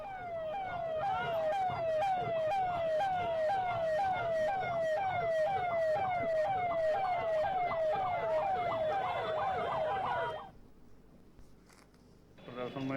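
A wailing siren cycles rapidly and steadily at a protest procession, loud and close for about ten seconds before cutting off, leaving faint background rumble.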